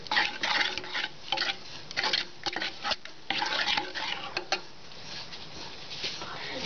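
A spoon scrapes and clinks in a pot while yam curry with mashed spice paste is mixed, giving irregular close stirring and knocking sounds that fade toward the end.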